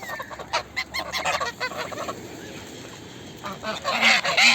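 Ducks squabble noisily at close range while being fed, harsh honking and squawking calls overlapping in bursts, with a louder flurry of calls near the end.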